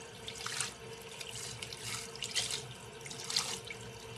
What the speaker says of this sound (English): I rinse this stuff in my sink